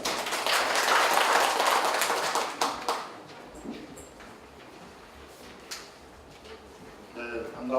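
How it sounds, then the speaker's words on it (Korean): At a cooperative policy forum, an audience applauds a speaker as he comes up, a loud burst of clapping for about three seconds that fades into room noise and scattered taps before speech begins. "박수로 맞으시기 바랍니다."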